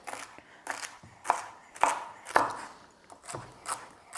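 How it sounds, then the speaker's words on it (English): A knife chops celery into quarter-inch pieces on a cutting board, landing about eight crisp, evenly spaced strokes close up, with no voices. "now we're just gonna go cut them into like 1/4 inch pieces down"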